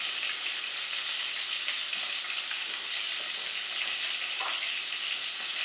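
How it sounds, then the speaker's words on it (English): Turkey giblets, neck and liver sauteing in a pan, a dense, steady sizzle and crackle up close with a few faint stirring scrapes, no voices over it. "You go ahead and saute those until they're brown"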